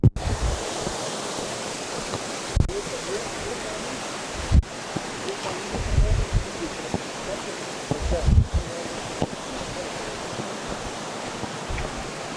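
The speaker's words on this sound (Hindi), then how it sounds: "और ये देखिए आप, पानी का स्रोत निर्झर बहता" Water from a spring source flows in a steady broadband rush, with occasional low thumps and handling bumps over the continuous stream.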